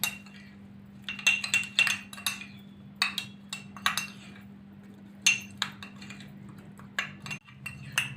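Red bean salad being tossed with crushed red chilli, salt, chaat masala and lemon juice, with repeated close clinks and scrapes of a spoon against a dish over a constant low hum.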